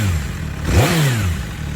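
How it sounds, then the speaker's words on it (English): MV Agusta 1090RR Brutale super naked motorcycle exhaust, warmed up and sitting at idle, gives a steady close rumble with a brief blip of revs rising and falling midway. "so let's hear that exhaust."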